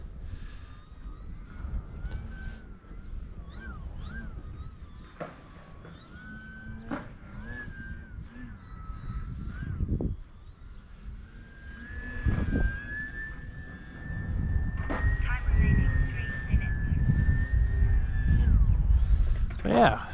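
A Bayer Model 32-inch Vertigo RC airplane on its maiden flight, its small electric motor whining in rising and falling pitch as it passes near and far, with outdoor noise and some wind buffeting.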